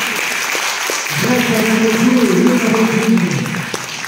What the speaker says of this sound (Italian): vorrei che faceste un bellissimo applauso alla nostra famiglia Rosina